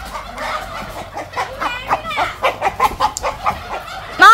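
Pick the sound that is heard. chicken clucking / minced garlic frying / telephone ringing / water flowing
chicken clucking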